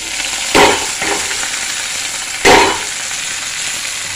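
Water spinach fries in hot oil with a constant sizzle, broken by two louder, hissing bursts as the leaves are stirred and tossed.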